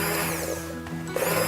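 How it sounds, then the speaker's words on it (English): An immersion blender purees tomato soup, whirring steadily with a high buzzing hum, its pitch dipping slightly midway before rising again. "I'm using my immersion blender."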